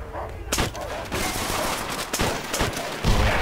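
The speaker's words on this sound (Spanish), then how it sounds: "Qué gustazo de dar pegar tantos tiros." Rapid bursts of gunfire from the World War II shooter Call of Duty: World at War, loud, dense shots crowding the whole stretch with a heavier blast near the end.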